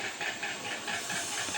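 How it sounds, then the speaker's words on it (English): Household ceiling fan running indoors, a steady airy whoosh with a soft rhythmic pulse, close and continuous with no speech over it. "Sorry for the background noise, that is my ceiling fan"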